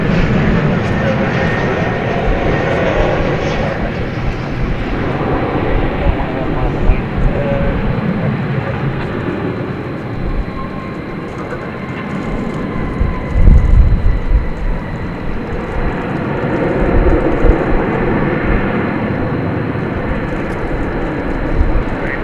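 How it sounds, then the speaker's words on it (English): American Airlines Boeing 737-800 arriving at night at DFW airport, a broad sustained jet roar that swells and holds for the whole stretch, loud and near, with a voice talking over it at times. "Coming into focus there at the last moment is American Flight 2406 from Minneapolis, St. Paul, 737-800"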